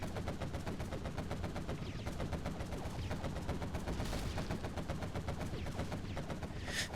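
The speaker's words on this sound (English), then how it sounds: "quad cannon taking out another Chinook" Quad cannon gunfire in the strategy game C&C Generals Zero Hour, firing rapid and continuous bursts for several seconds. The shots come steadily and evenly, moderately loud against battle noise.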